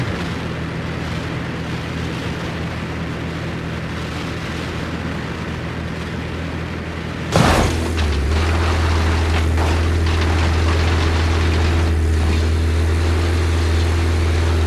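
A Dodge Viper in the BeamNG Drive racing game accelerating toward 600 mph, a loud sustained engine roar that jumps abruptly into a heavier, deeper drone partway through, with a sharp burst at the transition.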